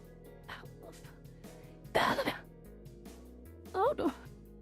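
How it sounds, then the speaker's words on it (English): A single harsh cough bursts out amid quiet background, followed a moment later by a short vocal sound that may be throat clearing. "I'm coughing."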